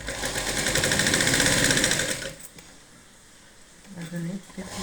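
Sewing machine running fast while stitching a seam on a lining-free katori blouse, a loud steady whir for about two seconds, then stopping into quiet handling noises.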